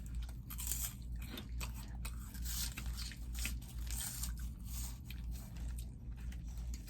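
A toddler and mom chew crunchy Japanese snacks with a hot-fries texture, producing soft, irregular close-up crunches and mouth noises repeated across the stretch, quiet and without speech.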